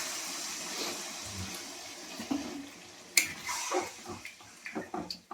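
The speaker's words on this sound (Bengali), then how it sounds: "ভালো করে এখানে জল দিয়ে দেবো।" Water poured into a cooking pot while making egg curry with boiled potatoes, a faint trickling and splashing that swells briefly with a few small clinks, fairly quiet throughout.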